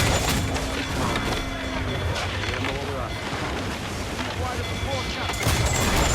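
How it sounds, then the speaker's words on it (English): Heavy booming ship cannon blasts and crackling gunfire in Assassin's Creed IV: Black Flag roll over a rushing, windy background, with shouted voices mixed into the din. "Cannons have a long reach."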